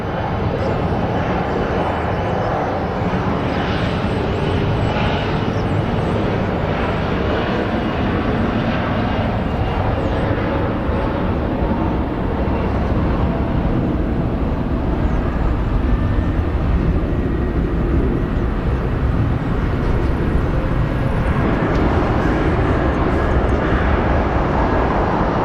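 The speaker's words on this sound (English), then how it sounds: "our next plane we're going to track is the Surfair" A Surf Air airplane at Phoenix Sky Harbor International Airport, its engines producing a loud, sustained roar that fills the whole stretch and swells slightly toward the end, heard up close.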